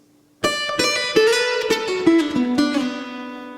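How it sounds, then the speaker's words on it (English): A quick banjo lick over ii-V-I-VI chords in the relative minor, bright plucked notes rolling along with a steady picking rhythm, played solo and up close. "I'm going to do that relative minor lick that I like doing."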